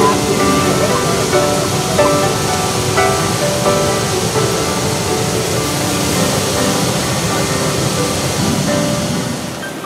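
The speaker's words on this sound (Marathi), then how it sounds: "सालेकसा तालुक्यातील ब्रिटिशकालीन हाजरा फॉल धबधबा हा देखील ओसंडून वाहू लागलाय" Hajra waterfall, a British-era fall in Salekasa taluka, overflowing after heavy rain, gives a steady, loud, broadband roar of rushing water that holds at the same level throughout with no voices.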